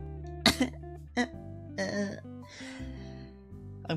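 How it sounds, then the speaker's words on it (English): A single sharp cough bursts out, followed by a few softer throat-clearing coughs, close to the microphone, with quiet background music from the cooking game PlateUp! beneath. "I'm coughing."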